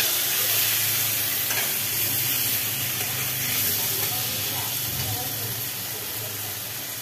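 Cumin paste frying in a hot pan while being stirred, a loud, steady sizzle and hiss that runs without a break, with soft scraping of the stirring underneath.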